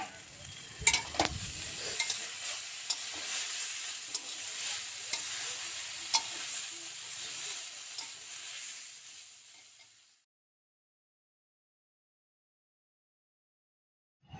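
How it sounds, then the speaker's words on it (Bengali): Potatoes frying in a pan give a steady close sizzle with scraping stirs and a few sharp clicks, running about ten seconds and then cutting to silence. "দেখো আলুটা আমি ভেজে নিচ্ছি এবারে"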